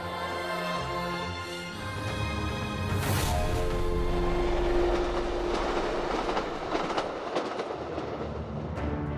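A train on the Qinghai-Tibet Railway rolls past, with steady rail rumble and rhythmic clickety-clack of wheels over joints, fairly close and loud, with a brief bright screech and rising clatter midway.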